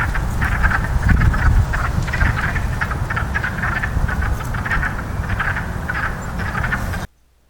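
A chorus of frogs croaking in a large freshwater marsh, steady pulsing calls from many animals overlapping at moderate distance, with no voices, ending abruptly.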